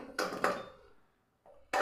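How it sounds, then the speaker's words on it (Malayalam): Jackfruit seeds dropped into a mixer grinder jar: two close, hard clattering knocks, a short silence, then another rattling clunk. "നമുക്ക് ഈ ഒരു ചക്കക്കുരു നമ്മുടെ മിക്സിയുടെ ജാറിലേക്കൊന്ന് ഇട്ട് കൊടുക്കാം"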